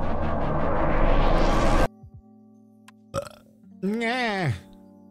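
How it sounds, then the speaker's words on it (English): A loud, long belch from someone who has just had a carbonated drink, rumbling close and strong before stopping abruptly, followed by brief vocal sounds and a short groaning voice. "Don't make me burp so much."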